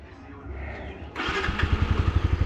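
A motorcycle engine cranks and catches, then settles into a loud, rhythmic idle with steady pulsing beats, close by.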